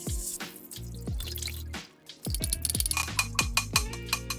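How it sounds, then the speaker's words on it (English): Quinoa rinsed in water through a small tea strainer, with close dripping, trickling and splashing water and a few clinks of metal, uneven and intermittent, no talking. "So here I have 1/4 cup of quinoa in some water, and I'm just gonna use this coffee net thingy, tea net thingy"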